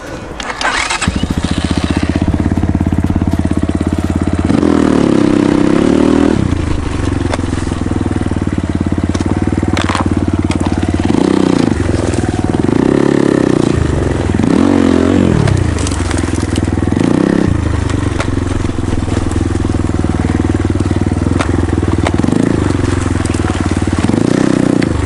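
Chinese motorcycle climbing steep hills, its engine droning loudly and close throughout, rising and falling in repeated revs as the throttle is held, with wind rumble over the ride.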